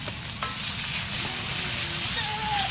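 Young jengkol leaves and other ingredients sizzle and fry loudly in hot oil, a continuous crackling hiss close by, with a stirring clink partway through.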